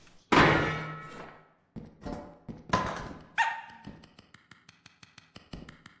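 A dog in the Lethal Company video game lets out a few loud, sharp barks spaced apart, followed by a quick run of fainter tapping clicks.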